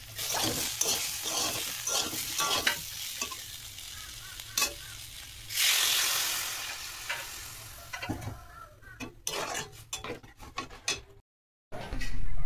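Shukto of bitter gourd, eggplant, potato and plantain cooks in a home kitchen: spatula scrapes and clatters over bursts of oily sizzle, a louder hiss midway, then a brief silence before the noise returns.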